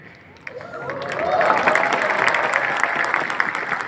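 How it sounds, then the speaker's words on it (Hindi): Dense audience applause with men clapping in a large hall, rising quickly to a steady, sustained wash of many hands with scattered sharper claps and a faint crowd murmur beneath. "मैं देख रहा हूं पहली बार पुरुष ताली बजा रहे हैं"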